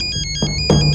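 A phone ringtone chimes loudly and close, a short electronic melody of bright repeating tones that sounds alone for about a second.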